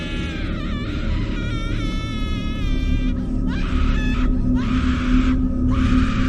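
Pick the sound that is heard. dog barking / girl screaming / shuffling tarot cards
girl screaming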